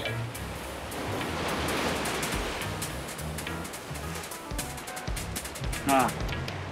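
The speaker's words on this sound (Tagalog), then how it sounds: "Malakas ang alon." Rolling surf and ocean waves wash in a continuous roar, with wind buffeting and a person talking over the noise.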